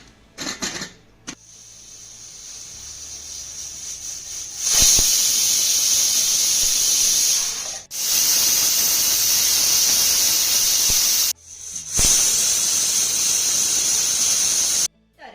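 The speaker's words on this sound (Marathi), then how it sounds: "कुकरच्या तीन शिट्ट्या करून घ्यायच्या आहेत" A loud, steady hiss of steam whistling from a pressure cooker cooking sorghum (jowar) over a medium flame, cutting off briefly a few times before resuming at full strength.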